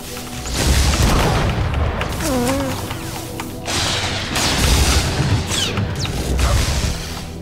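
Gunfire in the video game SWTOR, with repeated blasts and booms in dense, continuous bursts from several shooters, loud and close over background game sounds.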